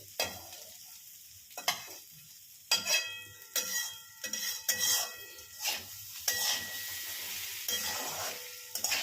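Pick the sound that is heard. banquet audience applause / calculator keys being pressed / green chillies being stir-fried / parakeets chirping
green chillies being stir-fried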